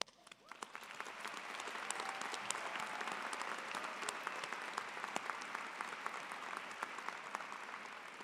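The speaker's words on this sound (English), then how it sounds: "Please join me in recognizing our master's candidates with applause." Sustained applause from a large audience at a College of Creative Arts commencement ceremony honoring master's candidates, building quickly and holding steady as dense, even clapping throughout.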